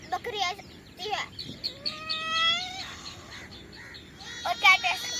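A person vocally imitates a cat's meow, a few drawn-out wavering mewing calls in the middle, alongside other short voiced imitation sounds, close and fairly clear.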